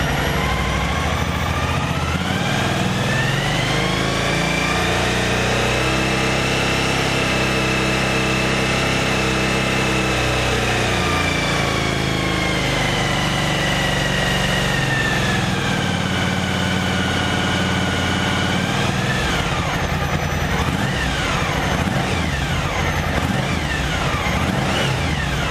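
A Yamaha T-Max scooter engine revs up from idle to around 5000 rpm, its pitch rising and holding steady, then dropping back, loud and continuous with no talk.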